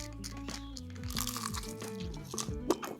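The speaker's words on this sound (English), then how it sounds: "Hear how crispy that is?" Crispy unsauced chicken wing from a Weber Vortex grill, bitten and chewed up close: a sharp crunch, then a run of crackly, moist crunches and chewing sounds, quiet and with no talking.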